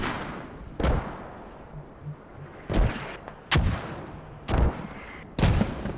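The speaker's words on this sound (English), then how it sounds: "launching mortars from a new location" Mortar rounds launch and impact in the Squad video game, five deep booming thumps spread a second or so apart over a rumbling battlefield background, fairly loud, with no voices.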